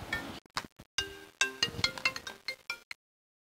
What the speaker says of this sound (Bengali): ওই দেখ, বলতে না বলতেই ফোন